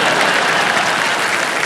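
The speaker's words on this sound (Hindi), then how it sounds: "तालियां बज जाए इनके लिए।" Studio audience applause on a Hindi television quiz show set, a dense, steady wash of clapping from a large crowd, loud and continuous with no voices over it.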